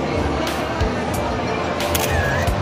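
A camera snapping pictures near Quiapo Church and the National Museum, several sharp shutter clicks in quick succession, heard under ongoing conversation and background crowd chatter.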